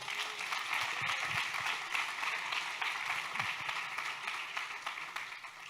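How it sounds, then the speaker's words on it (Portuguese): Congregation applauding during a Sunday church service, a steady wash of many hands clapping at moderate distance, sustained without pause and fading slightly toward the end. "Aplauda o Senhor."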